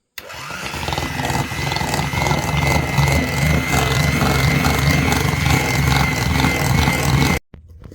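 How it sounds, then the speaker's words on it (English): Electric egg beater whizzing a no-bake peanut butter cheesecake mixture, a loud continuous motorized whir with rattling texture, running steadily for about seven seconds before cutting off abruptly. "now get the egg beater and just whiz it up"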